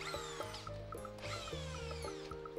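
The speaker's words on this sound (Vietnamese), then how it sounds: "test chức năng khoan thường và khoan đục" A Japanese-market power drill runs on test in normal drilling mode, its motor whine sweeping up and down in pitch as the trigger is pressed and eased in repeated bursts, close and steady with no talk.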